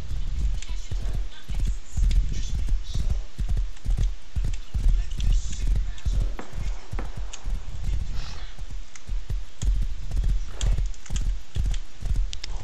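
A horse in the video game Rust gallops with rapid, rhythmic clip-clop hoofbeats, steady and close throughout, while a person talks intermittently over it.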